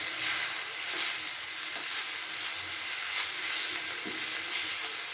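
Grass pea greens frying in a pan with a pinch of sugar, a soft steady sizzle and hiss with faint periodic stirring scrapes, fairly quiet and without voices.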